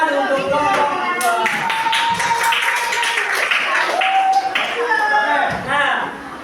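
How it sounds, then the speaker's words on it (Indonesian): Children clap for a group during a classroom activity, with rhythmic handclaps sounding nearby while voices chatter and talk over them the whole time. "Oke, tepuk tangan untuk kelompok 2."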